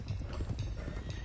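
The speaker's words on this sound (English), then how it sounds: "let's get these horses to Clemens Cove quick before we run into any more trouble." In the video game Red Dead Redemption 2, a group of horses gallops, with a dense, continuous drumming of hooves and clip-clop in the foreground and faint snorting under it, and no talk.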